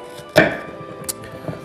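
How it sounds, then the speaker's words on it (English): A kitchen knife chops onions on a board with one firm, close thud, followed by a couple of fainter knocks. "it's very dangerous to cut onions."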